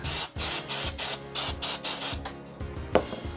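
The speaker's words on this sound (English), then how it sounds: "I like using electric contact cleaner. This is stuff that I use to clean electric motors. So we're just going to spray it down real quick." Electric contact cleaner sprays onto a Super Famicom Jr circuit board in eight quick, loud hissing bursts at a steady rhythm, followed by a short pause and one faint final puff.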